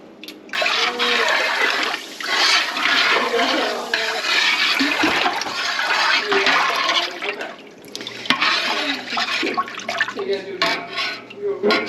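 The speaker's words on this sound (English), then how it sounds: "we've just put a little bit of water in with our mustard bottles to rinse them out" Water runs and splashes into mustard bottles for rinsing while making a homemade Southern-style BBQ sauce, a near, continuous gushing and sloshing with some clinking, with a person talking over it.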